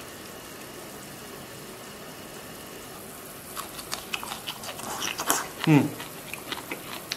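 Chewing spicy hot pot beef tripe with meat slices, close and wet mouth sounds that build over the second half above a constant bubbling simmer, with a brief murmur from the eater.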